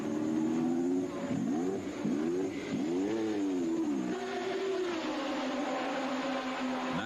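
A Honda-engined Formula 1 car from 1988 screams as it accelerates, its engine pitch climbing and dropping through repeated gear changes, loud and near, then holding a high steady whine.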